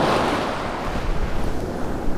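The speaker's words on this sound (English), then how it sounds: "every one of these waves that comes in, like this one here" Ocean waves wash onto the sand of a morning beach at Laguna Beach, a loud continuous surf roar with a swelling rush, mixed with gusty wind buffeting the microphone.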